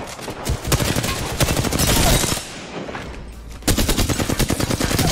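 Rapid automatic gunfire from an Apex Legends match rattles in dense, loud bursts, briefly pausing midway before another stream of quick shots resumes.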